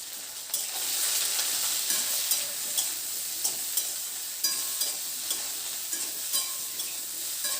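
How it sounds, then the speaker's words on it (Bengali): Potato and eggplant pieces frying with a pinch of turmeric, a steady close hiss of oil broken by regular scrapes and taps of a spatula stirring through the pan, with no voices. "এবার নাড়াচাড়া করে আলু আর বেগুনটাকে বেশ লালচে করে একটু ভেজে নেব"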